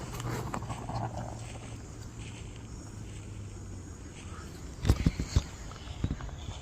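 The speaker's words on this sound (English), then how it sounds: "it sounds like someone's just walking around." Footsteps of someone walking around outside a campsite at night, faint at first, then a short cluster of louder, closer thuds toward the end over a quiet outdoor hush.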